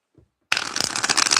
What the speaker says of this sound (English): God's Flow, I just wanted to show you this card when I cut to shuffle